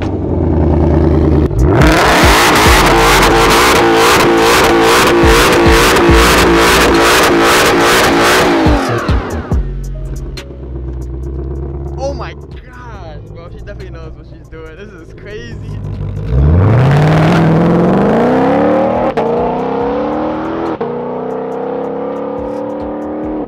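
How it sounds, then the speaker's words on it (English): A sports car engine revs hard and loud for several seconds, drops away, then surges up again in a rising roar. "I'm gonna warm up my car now."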